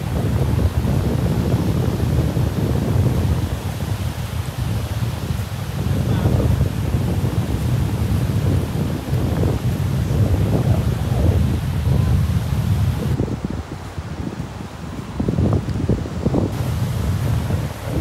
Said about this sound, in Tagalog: Ganda ng simoy ng hangin, malamig.